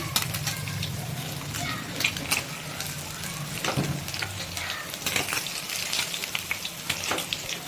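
Steady oil sizzling and crackling as pabda fish fry in a pan, with occasional stirring clinks, close and continuous.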